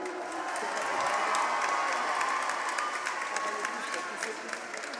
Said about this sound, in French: Pour tous les musiciens qui sont là, applaudissez-vous